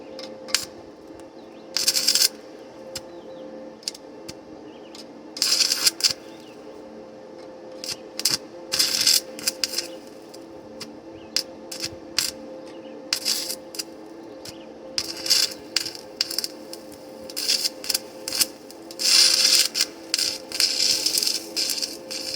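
Thick steel being stick welded at roughly 33 to 35 amps: bursts of crackling and sizzling arc noise, close and fairly loud, starting and stopping irregularly over a steady low hum, with no talking.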